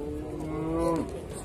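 A dairy cow mooing at a livestock market in Jalal-Abad, one long drawn-out low moo over a noisy outdoor crowd background, fairly close and loud.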